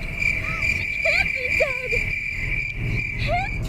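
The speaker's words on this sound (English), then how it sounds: "Crickets." Crickets in Fallout New Vegas chirp in a steady high-pitched trill throughout, with sliding whistly game tones overlapping and faint low background noise.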